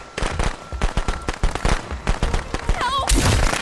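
Rapid crackling bursts of firecrackers going off in the video game Friday the 13th: The Game, a fast irregular string of sharp pops, loud and close, with a voice talking over them.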